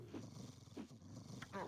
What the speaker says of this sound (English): Whoa, no need to growl like that.